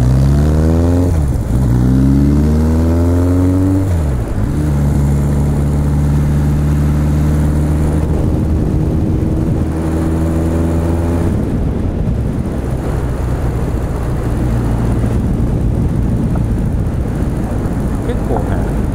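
Kawasaki Zephyr motorcycle engine while riding on a road trip beside a railway line, a steady loud engine drone with rising and falling rev sweeps near the start, continuous throughout with a voice talking over it.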